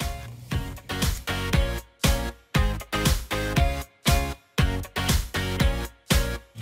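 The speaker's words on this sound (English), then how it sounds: "they're doing a bit of whacker plating over there" A wacker plate compactor works nearby on a greenhouse building site, giving a steady run of heavy rhythmic thumps, each a loud broadband pulse a fraction of a second apart, with no voices.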